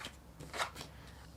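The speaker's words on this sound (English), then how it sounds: "I'm going to be shuffling throughout the reading" Tarot cards are shuffled by hand during a pick-a-card reading, giving a few quick riffling bursts with the loudest in the middle, close and clear with no voice over them.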